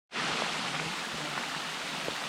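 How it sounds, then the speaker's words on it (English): Steady heavy rain hissing close around on a hike at Enchanted Rock State Park, Texas, a dense constant wash of falling water with no voices. "The rain caught me, guys. Oh my gosh. Rain pouring on me"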